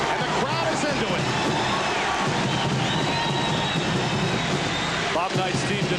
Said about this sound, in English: Notre Dame's crowd is getting a little bit excited